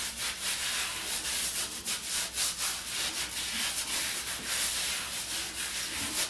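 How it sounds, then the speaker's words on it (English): A Philips OneBlade Core razor shaves and exfoliates skin in a beard area, giving a close, steady scratchy rubbing buzz with small flutters in intensity that runs throughout, with no talking. "you can hear the exfoliating is taking place."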